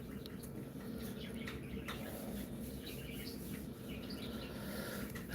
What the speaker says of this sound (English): Birds are always chirping.